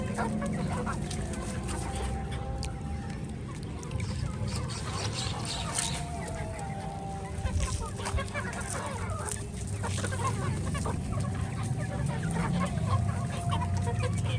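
A flock of poultry-farm chickens clucks and calls steadily while pecking at soaked food scraps spread on the ground, a dense, close chorus of overlapping fowl sounds with no talking.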